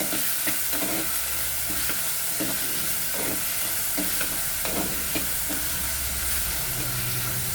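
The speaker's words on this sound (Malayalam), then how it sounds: "നമുക്ക് ഇളക്കി കൊടുക്കാം. കുഞ്ഞി ചട്ടി ആയതുകൊണ്ട് ഒരു സുഖം കിട്ടുന്നില്ല." Fish frying in a small pan sizzles loudly and without a break. Repeated stirring scrapes and clatters ring out over the hiss, and nobody speaks.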